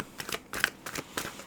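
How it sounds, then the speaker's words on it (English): Tarot cards are shuffled by hand in a rapid series of soft riffling bursts, several quick flutters close by, with no talking over them. "I feel like we just need to keep shuffling for a little bit longer."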